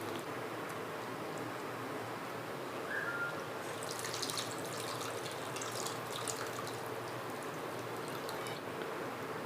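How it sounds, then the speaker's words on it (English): Leftover tamarind pulp is squeezed by hand in water for a fish gravy, giving a soft continuous wet swishing with brief splashy squelches near the middle, close and fairly quiet. "Instead of adding water, I'll use the leftover tamarind pulp and then squeeze it again."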